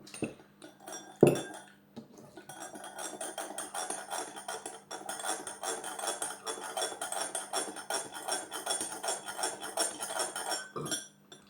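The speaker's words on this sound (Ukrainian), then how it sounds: "Ще тут цукру на дні багато. Можна шкребсти." A metal spoon scrapes sugar off the bottom of a mug in quick, repeated rasping strokes, close and fairly quiet, after a single sharp clink near the start.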